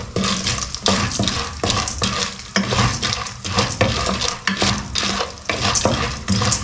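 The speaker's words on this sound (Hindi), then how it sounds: "ज्वार जो है हम इसमें डाल देंगे और इसको हल्का हल्का फ्राई करेंगे" Sorghum (jowar) grains frying lightly in oil in a pan, giving a steady close sizzle broken by repeated scraping stirs and clinks of a utensil against the pan, with no talk.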